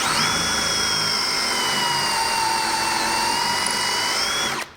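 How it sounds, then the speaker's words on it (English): Close and loud, a power drill whines at a steady pitch as it drives into a wooden spice rack, running for several seconds before cutting off. "And we're just going to take our drill."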